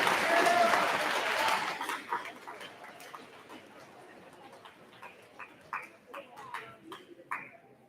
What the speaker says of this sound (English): Let's give Mrs. Floro's class, or her awards, a big round of applause.